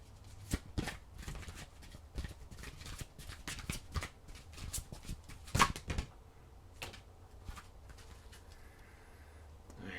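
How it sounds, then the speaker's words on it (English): A deck of oracle cards is shuffled and drawn by hand, giving a close, steady flutter of riffling and papery snaps that grow busiest around the middle, with no talking. "let me get your other oracle card here"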